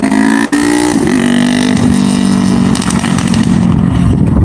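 A loud motorcycle engine revs up close, a sharp blip followed by rising, roaring throttle that climbs and holds, with no talking over it.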